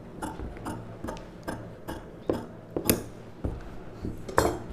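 Scissors cut boat neck blouse fabric, giving a run of sharp, close snips and metallic clicks at uneven intervals.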